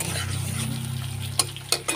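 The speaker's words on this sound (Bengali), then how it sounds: "পেঁয়াজ আর লঙ্কাটা ভাজা ভাজা হয়ে গেলে এর মধ্যে আমরা মশলা দিয়ে দেবো" Onion and chilli with a bay leaf fry in a pan for a chitol fish curry, giving a steady close sizzle with a few sharp utensil clinks near the end.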